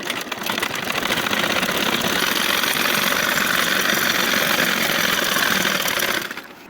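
A sewing machine stitches a hijab with a dense, steady mechanical whir that runs unbroken at close range for about six seconds, then cuts off near the end.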